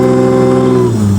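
Supercharger whine boosted by a $50 modification while accelerating in third gear: a loud, steady, close tonal whine that drops in pitch just before the short burst ends.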